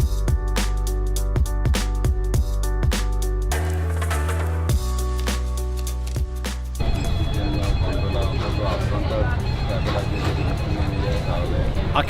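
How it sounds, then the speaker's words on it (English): A phone rings in a busy spot in Venice's San Marco area, a steady repeating electronic ring tone that is loud and close, with crowd chatter and speech around it, the pattern changing partway through. "I can't answer the phone right now"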